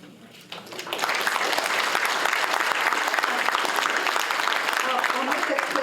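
An audience at a Day of Remembrance event for Terminal Island breaks into applause, starting quiet and swelling after a moment into steady, dense clapping that holds to the end.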